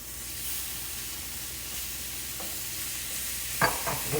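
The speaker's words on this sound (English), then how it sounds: "Now I'm going to toss in these tomatoes" A cup of fresh garden tomatoes is tossed into a hot pan alongside okra, giving a steady sizzling hiss with a sharper burst of frying crackle near the end.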